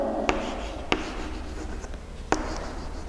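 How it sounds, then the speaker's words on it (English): Writing an answer on a classroom board, faint scratching strokes with three sharp taps spaced across a few seconds, otherwise quiet. "So I'll write the answer."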